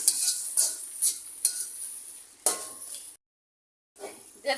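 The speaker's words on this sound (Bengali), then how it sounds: "এখানে আমি এগুলো ভেজে নিয়েছি আদা রসুনগুলো যেন কাঁচা গন্ধটা চলে যায়" Ginger and garlic paste frying in a pan for a Bengali rui fish head muri ghonto, with a metal spoon scraping and clinking against the pan several times in a loose rhythm over a light sizzle, followed by a short silent gap.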